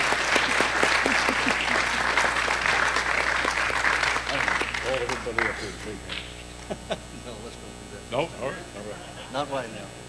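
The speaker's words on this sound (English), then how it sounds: "Now, how about give them another applause?" Church congregation applauding its pastors, loud sustained clapping for about five seconds, then tapering into scattered claps and voices.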